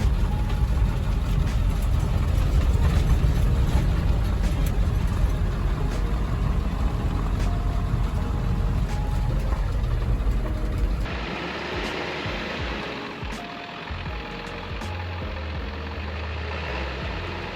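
A school bus engine that has sat unused for months idles in Colorado, a steady low rumble that stays close and loud for the first stretch, then drops to a softer, thinner idle for the remainder.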